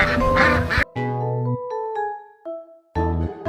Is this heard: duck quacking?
yes